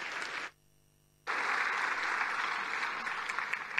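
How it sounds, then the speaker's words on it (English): Applause from a large keynote audience at a tech conference in Tel Aviv, a broad steady wash of clapping that cuts out briefly near the start, then resumes and continues evenly to the end. "let's welcome to the stage with a big round of applause"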